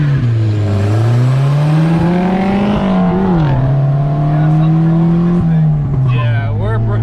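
Street-tuned car launching hard in a street race, its engine droning loud and close as it pulls through the revs, dipping and rising again, with a voice audible over it near the end.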